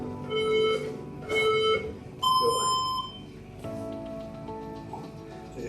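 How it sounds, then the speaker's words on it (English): A loud electronic workout timer buzzer sounds in several long blasts, each lasting about a second, separated by short pauses. "Don't stop when you hear the buzzer start."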